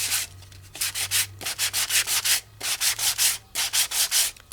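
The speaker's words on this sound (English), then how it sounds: "Just lightly hit it, take some of that paint off, and pull that embossing up." Rhythmic rubbing strokes, roughly a dozen quick passes, as paint is lightly sanded off an embossed card, each stroke a loud scratchy swish with short pauses between.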